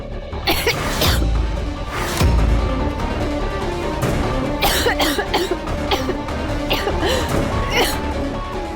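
A woman coughs in a home drama scene, several harsh bursts spread over a loud, busy background of music and movement, with talk nearby.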